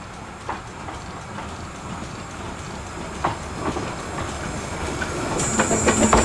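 Narrow gauge steam locomotive Tom Rolt climbs the extension past a forestry crossing, a broad rumble of rolling wagons and steam hiss with faint rhythmic clicks, growing slowly louder as it approaches.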